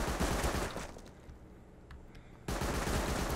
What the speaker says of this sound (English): Why am I being shot by the turret?